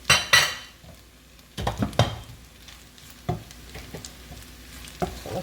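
Brown butter pasta with garlic being stirred in a pan, with a few sharp utensil scrapes and clanks against the metal over a faint sizzle, spaced irregularly through otherwise quiet moments.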